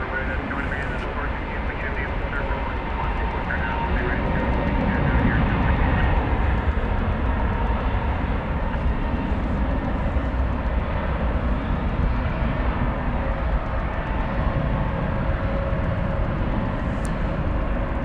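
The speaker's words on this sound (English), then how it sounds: "Flight 1371 going to Des Moines. Airbus A321neo." An Airbus A321neo jet, flight 1371 to Des Moines, departs DFW airport with a loud, sustained broadband engine roar, steady across the whole stretch, with talk in the background.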